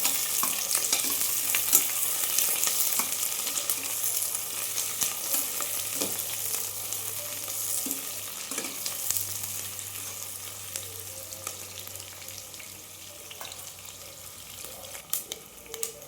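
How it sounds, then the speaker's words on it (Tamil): Two large onions sautéing in hot oil for jackfruit biryani make a steady, close sizzle that crackles on without a break, with occasional faint clicks as they are stirred. "நம்ம எடுத்த 2 பெரிய வெங்காயம், இதைய நல்லா வதக்கிக்கலாம்."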